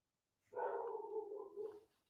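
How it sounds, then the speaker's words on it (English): Dogs barking in a single sustained bout lasting over a second, heard alone in a quiet room at moderate distance. "You hear the dogs barking."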